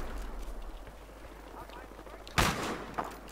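A single sharp gunshot cracks out in the Battlefield Hardline video game, followed by a fainter second report, over a low steady background hum.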